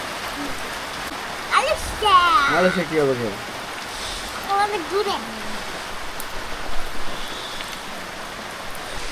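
Steady rain hisses across the whole stretch in a village, with people talking briefly over the downpour.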